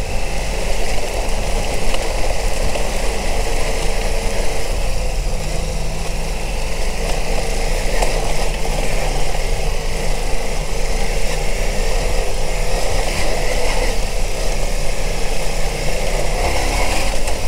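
Ducati Multistrada V4 S motorcycle engine labouring steadily up a rocky, gravelly trail with ledges, a continuous close rumble with gritty tyre and gravel noise throughout.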